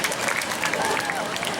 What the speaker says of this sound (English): So how about a round of applause for everybody that was involved in the incident?